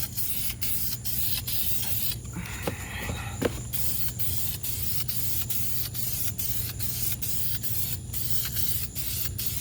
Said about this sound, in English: I tend to spray a little wet so that I get less orange peel, and dry spray